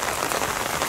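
Steady rain pours down during a rainy-day outdoor practice, a dense, even hiss of drops striking surfaces that fills the whole moment with no voices.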